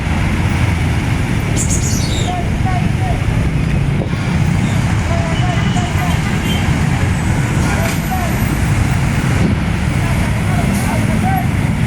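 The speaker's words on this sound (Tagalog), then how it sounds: "sa dami ng mga sasakyan ito guys" Heavy road traffic with many cars and motorcycles passing, a loud continuous roar of engines and tyres that stays up close and unbroken throughout.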